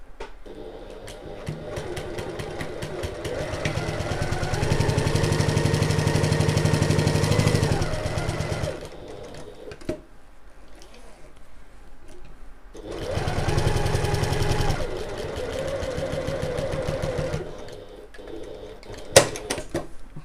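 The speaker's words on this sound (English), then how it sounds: "we're going to stitch using our scant 1/4 inch seam allowance" A sewing machine stitches a zip seam on a bag with a scant quarter-inch allowance, running in two long steady bursts separated by a pause, with short backstitch starts and stops, close and loud with no talking.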